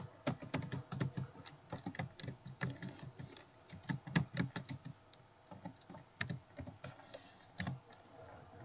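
Typing on a computer keyboard while filling in a real estate open house flyer, a steady close run of clicky keystrokes with uneven bursts and short pauses, no voice over it.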